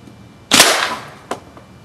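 A homemade W-shaped slingshot is fired once outdoors in cold weather, giving a sharp loud snap followed by a fainter second impact about a second later.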